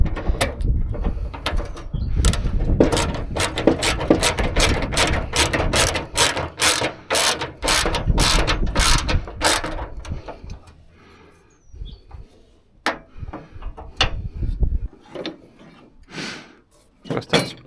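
A ratchet wrench cranks bolts while a roof rack is built onto a Scania truck: dense runs of rapid clicks at first, then sparser, separate clicks and short bursts later on.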